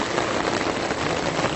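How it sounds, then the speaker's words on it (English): Pouring rain during a Day of the Dead celebration in Ocotepec, Cuernavaca, Mexico, a dense, steady hiss of drops drumming on surfaces nearby, with no voices. "We got in here and pouring rain again."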